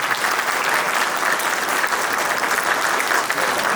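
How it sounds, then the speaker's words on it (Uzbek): An audience at a school celebration claps steadily and fairly loudly for a schoolchildren's performance, a dense even roar of many hands that holds for the whole stretch. "Buning uchun bitta olqishlab qo'ysak ham shu o'quvchilarimiz"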